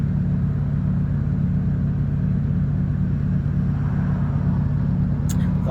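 A car idles at a traffic light, producing a loud, steady low engine rumble that stays close and unchanging, with a brief faint click near the end; no one speaks.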